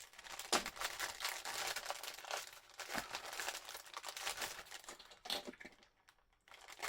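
A sturdy plastic bag holding a model kit is pulled open with continuous close crinkling and rustling, quiet overall, with a short pause near the end before the handling resumes.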